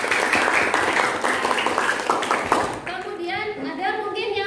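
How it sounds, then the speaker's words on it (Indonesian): Students in a classroom clap for a classmate named Sabrina, a burst of mixed clapping that fades out as children's voices and chatter take over. "tepuk tangan dulu untuk Sabrina."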